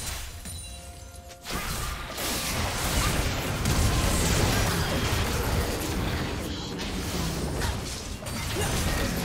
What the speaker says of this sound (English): Turret taking the fall.